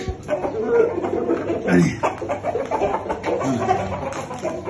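Chickens cluck close by in short, uneven bursts over a busy background.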